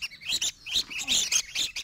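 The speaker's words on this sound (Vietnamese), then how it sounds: "đây là những con chim khỏe mạnh này." Healthy captive red-whiskered bulbuls give a quick run of bright, close chirps and whistled notes, several calls overlapping with brief pauses and no voices.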